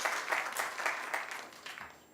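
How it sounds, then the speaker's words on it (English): Conference audience applause at a closing panel: a soft, diffuse patter of many hands clapping at a distance, steady and fairly faint, tapering slightly toward the end. "So can we give them a round of applause"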